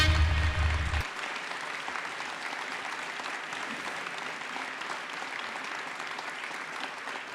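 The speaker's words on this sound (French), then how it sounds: "applaudissements, s'il vous plaît," An audience applauds at a conference, a dense sustained wash of clapping after a short burst of low sound at the start.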